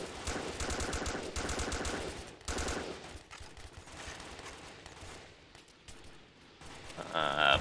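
Rapid machine gun bursts in the video game Joint Operations, dense repeated rattling fire for a few seconds that thins into scattered distant shots, with a voice speaking faintly in the background.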